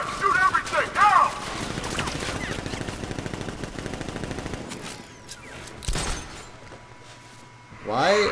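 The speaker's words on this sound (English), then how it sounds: "Open fire! Shoot everything!" Rapid bursts of gunfire from the Batman Arkham Knight video game, on an airship raid, rattle in a steady automatic stream, loud and close, with in-game voices talking over the start and end.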